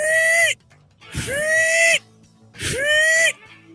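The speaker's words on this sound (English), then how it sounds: "That is the sound of the Vandy whistle." Three loud, piercing whistles, each lasting under a second and sliding upward in pitch before holding, separated by brief pauses, sounding like the Vandy whistle heard at a Vanderbilt baseball game.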